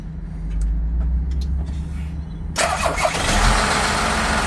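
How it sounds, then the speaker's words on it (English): A Volkswagen Amarok pickup engine cranks and fires after a quiet lead-in, then settles into a steady, loud idle close by, with no talking. "now we can start the car up"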